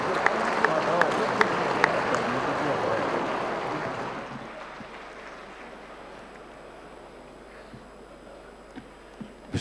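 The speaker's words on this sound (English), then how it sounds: "welcoming our chief guest, the Honorable Prime Minister of Pakistan, Mr. Mohammad Shehbaz Sharif, to the stage to address this august gathering in your big round of applause." At a formal gathering in Pakistan, an audience welcomes Prime Minister Shehbaz Sharif with dense applause that fades over the first four seconds into quiet room tone with a few scattered claps.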